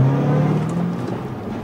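A Roush 427R Ford Mustang with 435 horsepower accelerating, its engine note rising and then holding steady, heard close and loud from inside the car without talk.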